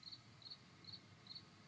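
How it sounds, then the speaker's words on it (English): Crickets chirping at night, a steady series of faint, evenly spaced trills repeating every half second or so over quiet background hiss. "At least the crickets aren't turning into zombie crickets."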